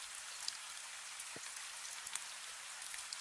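Steady light rain patters softly, a quiet continuous hiss with occasional distinct drops close by.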